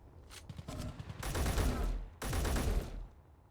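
Rifle gunfire in the video game Space Engineers: two long sustained bursts of rapid shots, loud and close, with a short lull between them.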